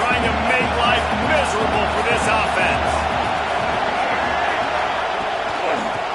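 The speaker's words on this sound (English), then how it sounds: "This crowd trying to make life miserable for this offense." Stadium crowd at a Texas A&M vs South Carolina football game, a loud, dense roar with cheering and shouts rising and falling, broadcast commentary talking over it.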